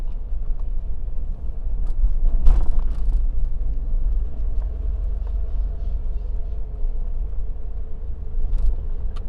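Heavy road traffic dominated by large trucks on Java's Pantura coastal highway makes a steady, loud low rumble with whooshing wind and passing-vehicle swells throughout, and no one speaks.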